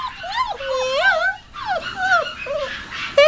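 English Cream Standard Goldendoodle puppies whimper and yip in their crates, with high wavering whines that rise and fall close up for a few seconds.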